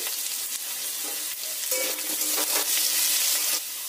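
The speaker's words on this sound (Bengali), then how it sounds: "আলুগুলোকে লাল লাল করে ভেজে নেব।" Cut potatoes frying in oil in a pan, a loud, continuous close sizzle with occasional stirring scrapes and no talking.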